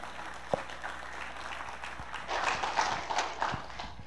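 An audience claps to welcome a speaker to a lecture stage. The applause is moderate and somewhat distant, with a few sharp thumps early on, and swells toward the end.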